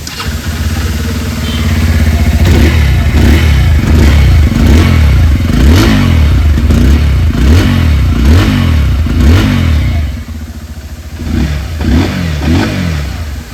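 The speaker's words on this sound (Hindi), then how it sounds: "आइए अभी सुन लेते हैं इस बाइक की एग्जॉस्ट नोट।" Exhaust note of a 2026 Bajaj Pulsar 150 base-variant motorcycle, heard up close and loud: the engine idles, then is revved in repeated rising and falling bursts before settling back to a lumpy idle.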